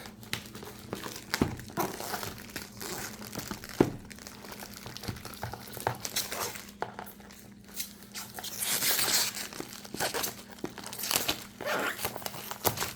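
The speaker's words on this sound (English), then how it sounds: "Cellophane. Yeah, peel this off." Cellophane wrap being peeled off a diamond painting kit box, giving soft crinkling and tearing rustles in quiet, irregular bursts close by.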